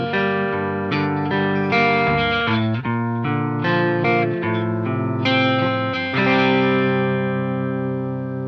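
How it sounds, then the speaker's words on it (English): Electric guitar run through a Digitech Whammy DT set to shift down two semitones plays sustained chords and notes, loud and continuous with a slightly processed, effected tone and no talk. "you could put it into the shift down 2 semitones option,"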